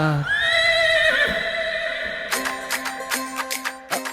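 A horse gives a loud, drawn-out whinny that wavers in pitch, then a run of short, rhythmic bursts follows close by.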